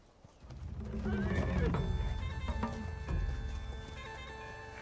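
A horse whinnies loudly and close, a long rising and falling neigh with a few clip-clop hoof sounds, set in a stable yard; a voice is faintly present underneath.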